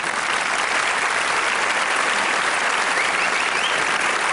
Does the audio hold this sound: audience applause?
yes